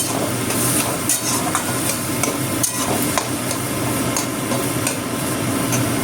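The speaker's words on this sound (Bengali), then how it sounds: "ভালো করে নাড়াচাড়া করে দিতে হবে। দেখুন একদম পুরো খুন্তি দিয়েই একদম ঘেঁটে যাচ্ছে" A spatula scrapes and stirs cauliflower paratha filling in a hot pan, with repeated metallic clacks and scrapes over a steady sizzle, close and fairly loud with no talk.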